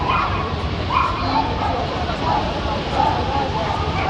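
At the start of a dog race, dogs yip, whimper and bark in excited bursts over a dense, noisy outdoor crowd background while an announcer talks throughout.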